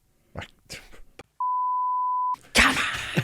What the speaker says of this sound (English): that'll be beeped out